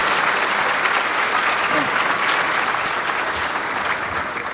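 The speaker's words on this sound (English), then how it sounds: "I wish a round of applause to the big guy" Dense, sustained applause from a large crowd, loud and steady throughout with no pauses.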